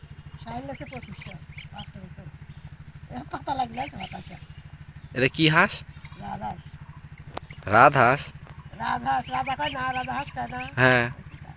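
Young goose goslings give repeated honking, quacking calls at close range, mixed with people talking over a low constant hum.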